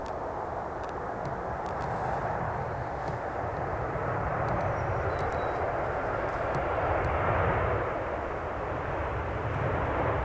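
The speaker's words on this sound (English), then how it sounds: "So another Ryanair. This one's in from Rome. Boeing 737-800, 8 years of age." A Ryanair Boeing 737-800 jet, eight years old and arriving from Rome, roars steadily and loud at Manchester Airport, a broad continuous engine rumble that swells slightly toward the end without pausing.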